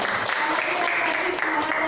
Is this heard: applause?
yes